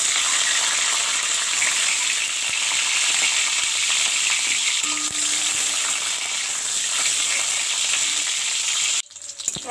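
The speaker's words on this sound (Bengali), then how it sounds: "এবার আমি ডিমগুলোকে একটু ভেজে নেব।" Eggs fry in hot oil in a wok for an egg curry, giving a loud, steady, close sizzle that holds without a break until it cuts off abruptly near the end.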